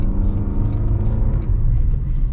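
A 2025 Toyota RAV4 Limited with a small four-cylinder engine driving, heard from inside as a steady low engine and road rumble, constant and fairly loud.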